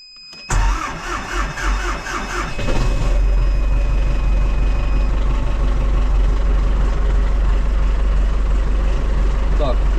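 An MTZ 892 tractor engine cranks and starts, then settles into a steady, loud, close-up running drone with a deep low rumble that continues to the end.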